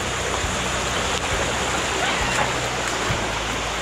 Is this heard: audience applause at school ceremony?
no